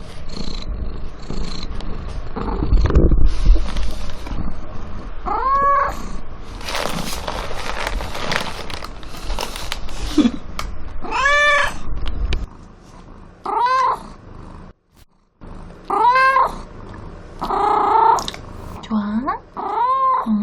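A cat meows repeatedly in drawn-out, rising-falling cries, close by, alongside purring and scattered voices.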